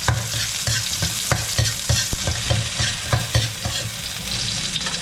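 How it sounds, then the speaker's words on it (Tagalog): Onion sautés in a little cooking oil with a loud, busy sizzle. Frequent rhythmic scrapes and clacks of a spoon stirring in the pan run throughout, and no one speaks. "gisa po tayo ng sibuyas"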